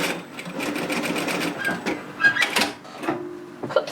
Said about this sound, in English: insert it into the space, the gap there where the folded edge is, and stitch as normal